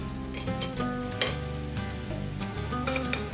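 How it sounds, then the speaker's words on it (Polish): Steady sizzling of garlic frying in a pan, with the soft scrape of a utensil stirring now and then. "Dodajemy czosnek. Chwileczkę jeszcze smażymy."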